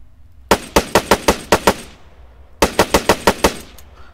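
Spar-17 rifle in the Arma 3 video game firing two loud, close bursts of rapid shots, six or seven cracks each with short echoing tails, separated by a brief pause.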